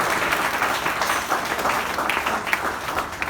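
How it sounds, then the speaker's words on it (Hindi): Audience at a college freshers' comedy show claps loudly and continuously, a dense, even wash of applause that fills the whole stretch. "जोरदार तालियां बजाओ"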